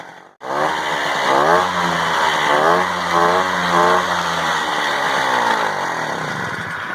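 A free vintage moped's small engine idles steadily and fairly loud, a continuous buzzing drone that starts abruptly after a brief gap and then tapers slightly toward the end as it is shut down.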